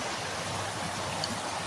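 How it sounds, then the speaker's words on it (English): A waterfall on a daily hike, heard as steady broadband rushing water, constant and fairly loud with no pauses or voices. "look at this beautiful waterfall"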